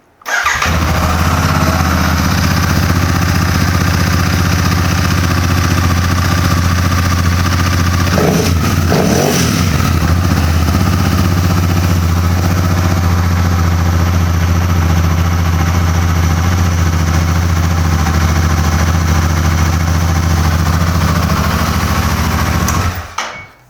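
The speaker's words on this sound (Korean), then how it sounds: "들어보시면 이제 일발 시동 걸리고 트윈 2기통의 공유랭식 엔진입니다" A Royal Enfield Super Meteor 650 starts first try and settles into a steady, throaty air-oil cooled twin-cylinder idle, close and loud, with a brief blip of revs early on.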